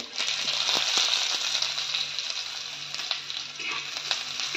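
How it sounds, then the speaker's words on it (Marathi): Onion frying in hot oil with cumin and mustard seeds, a steady close sizzle broken by small crackles and the odd tap of a spoon; no speech. "छान कांदा फ्राय करून घ्यायचा आहे तेलामध्ये"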